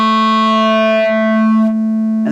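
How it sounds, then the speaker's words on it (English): A wave folder on a Korg Volca Modular synth shapes a steady, harmonically rich buzzing tone, loud and alone, whose overtones fade and then brighten again near the end. "traditionally, shaping harmonic content from a source oscillator was done with a wave folder or a wave shaper."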